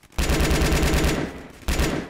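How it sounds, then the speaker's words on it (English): Gunfire in a Roblox gore game: a loud, rapid automatic burst of about a second, a brief pause, then a second burst, close and dominant with no talk. "Shooting my own teammates."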